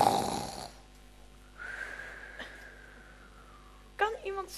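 A person snoring in a Dutch children's Alice in Wonderland production: one long, drawn-out snore with a thin whistling tone, with voices briefly before and after it.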